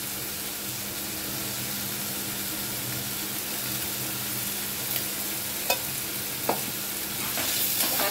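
Pumpkin and hilsa fish head curry stirred in a frying pan, a steady sizzle with scraping spoon strokes and a few sharp clinks toward the end, close and alone.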